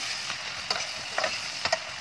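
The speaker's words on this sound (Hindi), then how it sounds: "अब हम इसको प्याज को फ्राई करते हैं" Onions frying in a pot with whole spices such as cardamom, cloves, black pepper and cumin, a steady hiss of hot oil with a few light stirring scrapes, close and brief.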